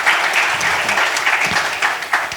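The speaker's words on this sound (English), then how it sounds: "A round of applause." An audience at a TiE summit curtain-raiser event in Mysuru applauds steadily, a dense round of clapping with a few sharper claps standing out, lasting a couple of seconds with no voices.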